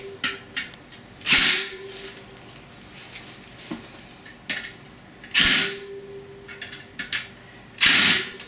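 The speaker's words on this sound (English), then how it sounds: "you can tighten these up either with your nut driver or a screwdriver" Bolts on a beach cruiser bicycle being tightened with a nut driver: repeated bursts of close ratcheting and scraping, each a second or so long, separated by quieter pauses with small metallic clicks.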